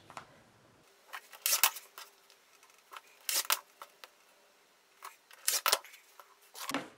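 Scissors or a cutter snipping through a stacked pile of fabric charm pack squares, several crisp bursts of cutting close up, separated by quiet pauses with faint handling.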